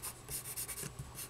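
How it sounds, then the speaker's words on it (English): Pencil sketching on paper: quick, close, soft scratchy strokes in a loose rhythm, about eight short passes with brief pauses between them, quiet and alone. "let's pencil these in a bit"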